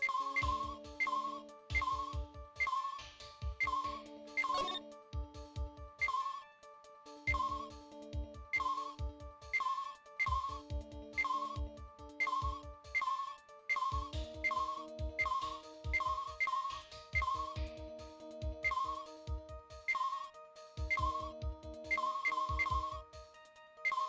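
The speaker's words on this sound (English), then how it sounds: "That's the alarm clock." An alarm clock rings in the Phoenix Wright: Ace Attorney video game, a loud electronic beeping melody that repeats in steady bursts over a low rhythmic pulse for the whole stretch.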